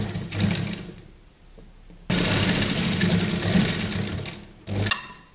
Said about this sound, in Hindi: ये कॉटन का कपड़ा है तो हम इस पर मशीन से ही सिलाई लगाएंगे